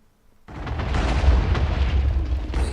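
Loud explosion spell in a modded video game bursts in after near silence, a sustained roaring blast with rumbling low end that keeps crackling for a couple of seconds.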